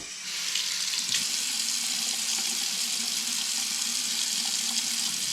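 Water runs steadily from a LEGO-built touchless sensor faucet into a sink, a constant close hissing splash that starts within the first half second and carries on evenly throughout.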